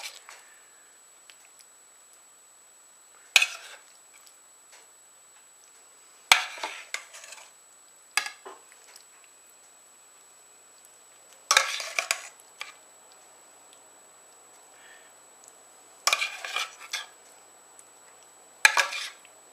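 Cooked pierogies are lifted from a frying pan onto a platter, giving a few separate clinks and scrapes of utensil against pan and dish at intervals, close by, with a faint sizzle and no talk.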